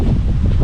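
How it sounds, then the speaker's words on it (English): Outdoor wind gusts buffet the microphone in a brief, loud, low rumble with a rustling edge, and no voices are present. "There's a little wind."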